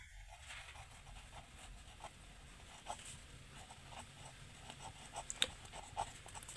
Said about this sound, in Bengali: তাহলে লিখবো আমরা